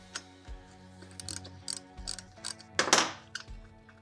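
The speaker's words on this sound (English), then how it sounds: "I'm gonna take my 14mm socket and back both of these out" A 14mm socket ratchet backing out motorcycle chain axle adjuster bolts, quick clicking ratchet strokes in short bursts with metallic taps, close and clear with no talk.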